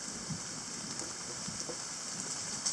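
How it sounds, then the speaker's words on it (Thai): Rain falls outdoors at a fishing spot as a steady, even hiss of drops with a few soft patters, continuous and close, with no voices over it. "เสียงฝ่าเสียงฝนมาแล้ว"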